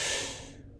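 A voice imitates a normal, calm breath: one short, smooth, airy exhalation, close and alone, fading out within a second.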